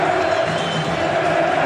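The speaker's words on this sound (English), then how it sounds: "They'll be cheering every English run" A capacity cricket crowd at Edgbaston during the 2005 NatWest Tri-Series match between England and Australia makes a broad, steady roar of cheering and chatter that continues evenly throughout.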